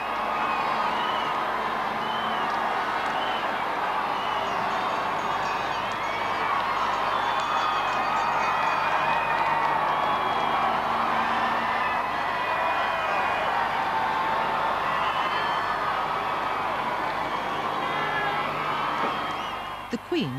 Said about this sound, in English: seemed taken aback at the sheer volume of the crowds